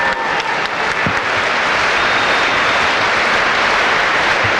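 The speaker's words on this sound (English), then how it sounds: "Well, the crowd responding to that, a much more lively round." A boxing crowd at a world championship bout cheers and applauds between rounds. The noise is a loud, steady roar of clapping and crowd sound that lasts through the whole stretch.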